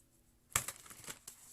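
A quiet, brief burst of crisp riffling and clicking as cards are shuffled for a reading, lasting under a second, followed by a final soft snap.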